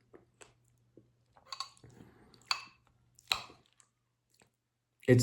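Someone eats after going 72 hours without food, with soft wet chewing and smacking bursts at irregular intervals, close and fairly quiet, with a low hum underneath.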